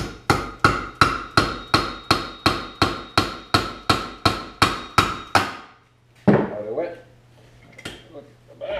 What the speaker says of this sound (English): So now I should be able to just tap that bearing out.